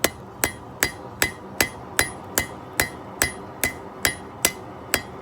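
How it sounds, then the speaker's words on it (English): A hammer forges metal to widen it, striking in an even rhythm of about thirteen sharp ringing blows over five seconds. Each close, bright impact is followed by a short decay, and no voices are heard. "Don't need to hammer that edge all the way flat."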